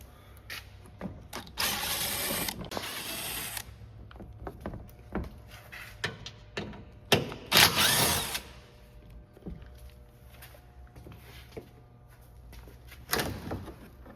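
Ratchet clicking as T45 Torx screws come out of the underbody shield on a 2018-2023 Volkswagen Atlas 3.6L V6, with bursts of rapid mechanical clicks and a few louder clanks, near and without talk.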